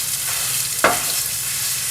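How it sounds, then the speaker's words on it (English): Close, steady sizzling of Italian sausage frying in a hot oiled pan, with a brief sharper hiss and clatter as something is stirred. "we have a sizzle, which is exactly what we want"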